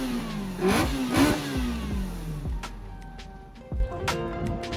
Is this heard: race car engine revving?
yes